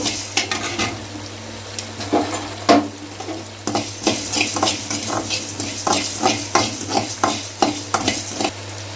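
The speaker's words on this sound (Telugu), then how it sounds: "మెంతులు కొద్దిగా వేసుకోవాలా, అవి కూడా బాగా ఫ్రై అవ్వాలా" Fenugreek seeds roasting in a pan while being stirred, with close, rhythmic scraping strokes of a utensil against the pan over a steady light sizzle, and no talking.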